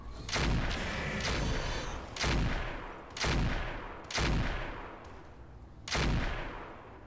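Heavy weapons volleys from the mech combat game RogueTech, a BattleTech mod: five or six loud, booming bursts with rumbling tails, spaced about a second apart, with no voices over them.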